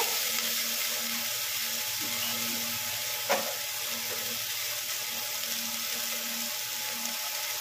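Peas and vegetables frying in a pan make a steady sizzle under a faint hum, with one sharp scrape of stirring partway through.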